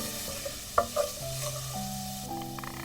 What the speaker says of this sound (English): Sauté until the garlic is golden brown.